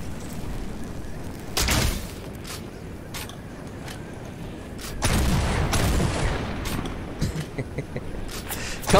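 A bot firing in the battle royale game Fortnite, several loud bursts of shots and booming impacts separated by quieter gaps, with scattered sharper cracks near the end over background game noise.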